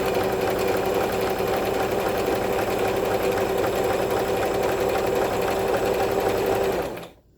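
A Brother XL-2600i sewing machine running a zigzag stitch along a fabric edge, a steady close whirring and rattling hum for several seconds that stops abruptly at the end, no talking.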